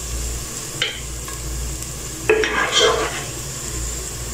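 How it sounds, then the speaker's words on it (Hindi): Cumin and a cinnamon stick stirred in a hot pan while ground meat and potato cook, a soft steady sizzle with two or three brief spoon scrapes rising above it. "अब इसमें डाल देंगे तो इसको अच्छे से चला लेंगे"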